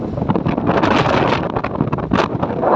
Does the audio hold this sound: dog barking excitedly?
no